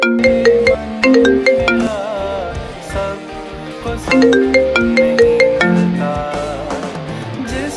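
A mobile phone ringtone plays a loud melodic tune close by, repeating its phrase twice without any talking.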